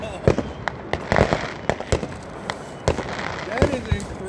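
Fireworks bursting right across the street on a summer night, a string of sharp bangs and crackles at irregular intervals, loud and fairly close, with a few rising whistles and background voices in between.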